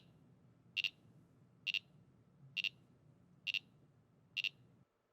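Five short, bright electronic beeps from a Panelicity Series 36 controller's audible alarm, evenly spaced about once a second over a low hum, each beep a quick doubled pulse, then silence.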